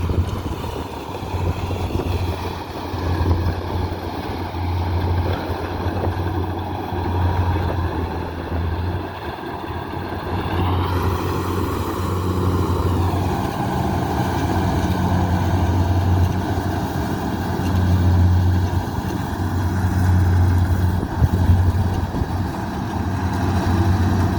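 A combine harvester cuts a rice paddy in a field, its engine drone steady and close, with a low continuous hum and rumble holding throughout.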